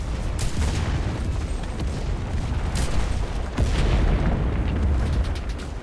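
Gunfire in the video game Enlisted, set in Tunisia, comes as loud rolling booms and sharp shots over a dense battle din throughout, with brief bursts standing out.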